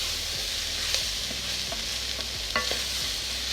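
Mixed vegetables for a coconut curry sizzle steadily in a hot pan while being stirred, a constant close frying hiss broken by light scraping clicks of the spoon.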